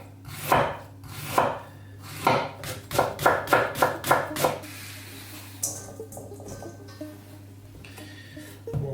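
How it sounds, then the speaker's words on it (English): Knife chopping red cabbage on a cutting board: about ten crisp close cuts, first slower and then a quick even run, followed by quieter handling sounds. "chopping your vegetables"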